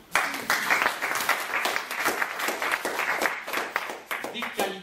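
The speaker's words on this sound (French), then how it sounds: "Vous pouvez les applaudir." An audience claps in a hall, a dense, sustained patter of many hands that holds steady throughout with a few louder bursts, no voices on top.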